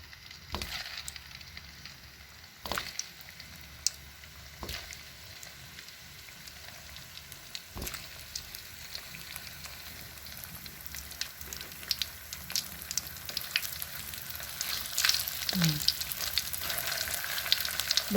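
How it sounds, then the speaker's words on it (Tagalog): Oil sizzles and crackles steadily as meatballs fry in a pan, with occasional sharper pops and taps of utensils, no talking. "Ayan, prito na natin yung meatballs."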